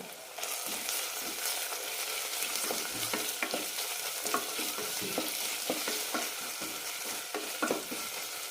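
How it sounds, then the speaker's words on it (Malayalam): Ginger garlic paste sautés in a pan for kuska biryani, a steady close sizzle broken by frequent spatula stirs and scrapes, with no talking. "ഇനി ഇതിലേക്ക് 1 ടീസ്പൂൺ ഇഞ്ചി വെളുത്തുള്ളി പേസ്റ്റ് കൂടി ഇടാം. നന്നായി വഴറ്റാം."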